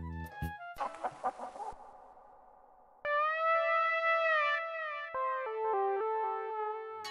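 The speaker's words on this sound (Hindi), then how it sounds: "वो देखिए मुडेर पर बैठा एक टांग का मुर्गा।" A few quick, distorted clucks give way to long, electronic-sounding tones, like a heavily processed call from a one-legged rooster perched on a wall.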